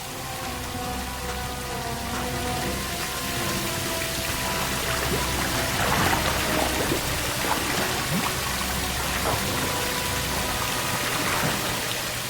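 Water runs continuously in a steady, dense splashing rush, like a tap or flow pouring onto a surface, loud and close throughout with no one speaking.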